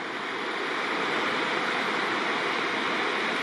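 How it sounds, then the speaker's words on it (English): Upper Red Deer River in a mountain valley rushing steadily, a dense, even broadband roar of flowing water, close and continuous with no voices or breaks. "this is the upper Red Deer River"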